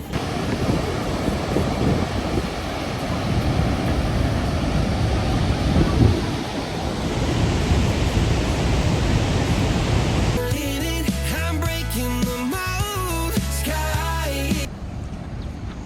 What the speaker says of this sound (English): There's more than one waterfall.